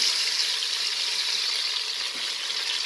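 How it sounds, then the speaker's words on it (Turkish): Constant bright sizzling of anchovies frying in hot oil in a pan, steady and close with no pauses and no talking. "Bütün balıklarımı aynı şekilde kızartacağım."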